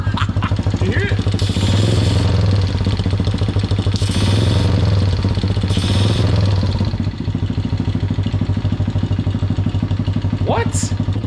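A mini bike engine runs loudly and close during a nitrous purge, a steady idling thrum broken by several hissing bursts of gas, with people talking over it.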